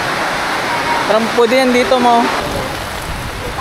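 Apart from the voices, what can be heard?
heavy rain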